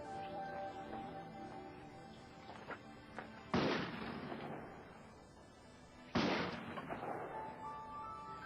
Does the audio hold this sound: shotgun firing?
yes